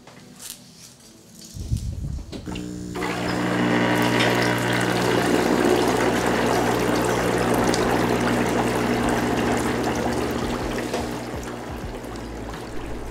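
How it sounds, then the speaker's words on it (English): A TeaLab compost tea brewer pumps air through water, producing a steady, dense bubbling and churning that starts after a quiet moment, swells loud, and holds continuously with no talking. "that's me turning the volume down on the bubbles in edit"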